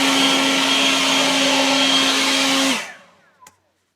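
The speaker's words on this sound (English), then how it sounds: "don't point the blower at that because it gets everywhere" A leaf blower runs at full power with a loud, steady roar and a high whine, then spins down and falls quiet after about three seconds, followed by a single small knock.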